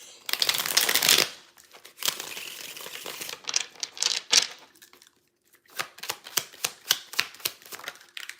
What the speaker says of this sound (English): Let me pull these mini oracle cards to wrap this up.